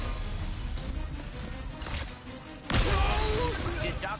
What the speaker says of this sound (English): Let's do Shatter Bomb.